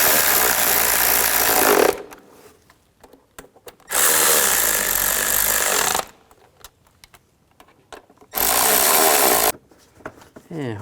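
Power tool driving the valve cover bolts down on a 2003-08 Nissan Maxima, three loud sustained whirring bursts of about two seconds each, separated by quieter gaps with faint clicks and handling noise.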